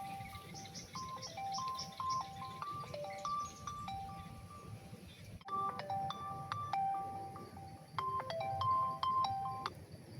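A mobile phone ringtone plays for an incoming call, a bright repeating electronic melody in short note phrases that breaks briefly near the middle and then resumes, fairly loud and close over faint room background.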